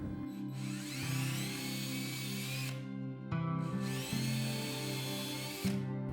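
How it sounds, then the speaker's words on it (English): A power drill whines steadily as it bores into wood for a homemade candy machine, running in two long bursts with a brief pause between them, close and loud. "Don't want to drill too far."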